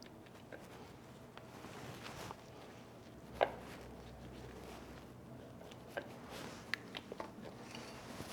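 Corn tortillas are sliced in half for an enchilada casserole, giving a few faint, sparse knife taps and one sharp cut against a quiet kitchen background.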